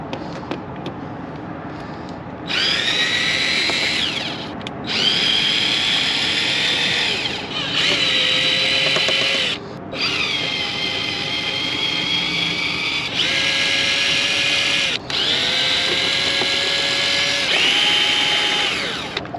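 A cordless drill driver backs screws out of a generator cover in repeated whirring bursts of a few seconds each, separated by short pauses, loud and close with no talking.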